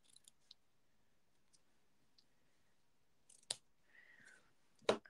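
Scissors trim paper for note cards in a quiet room, giving a few sharp snips and small clicks spaced apart, with a brief sliding rustle near the end.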